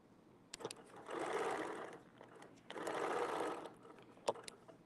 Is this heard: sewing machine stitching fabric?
yes